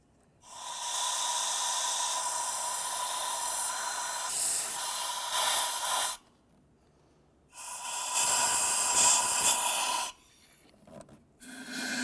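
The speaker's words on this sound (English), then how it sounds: "let's take a little bit of compressed air inside each of these ports to make sure there's no debris" Compressed air blasts into the exhaust ports of a 2005-2010 Chevrolet Cobalt engine during an exhaust manifold gasket job, loud steady hissing bursts, a long one, a pause, then another and a short final puff, with no talk.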